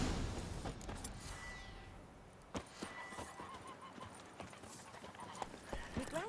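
Hooves of a horse clip-clop rapidly in The Witcher 3, a steady galloping rhythm with an occasional whinny and sharp impacts over ambient game sound.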